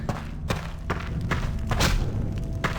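Wooden planks around a pillar being smashed in the dark fantasy video game Dark Messiah of Might and Magic, heard as a series of sharp, heavy thuds and cracks spaced roughly every half second.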